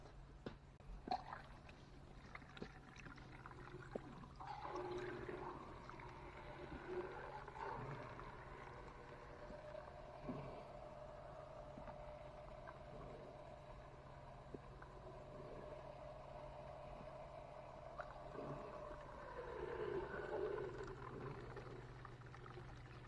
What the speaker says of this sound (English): we'll just run the pump and see if we can clean this out